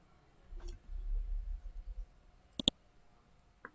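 A computer mouse gives a quick double click, sharp and close, after a low muffled rumble, with no talking.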